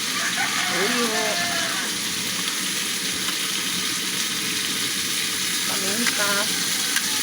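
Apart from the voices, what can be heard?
stirring kaldereta in a pan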